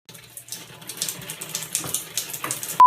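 Water gushes steadily from a rinser hose at a campground dump station, a broad splashing rush running the full length at moderate level, closing on a sharp, loud burst.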